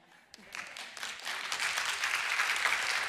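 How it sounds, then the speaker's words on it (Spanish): An audience at a church sermon breaks into applause, starting sparse and quiet then building into fuller, moderately distant clapping. "Y también se vale aplaudir."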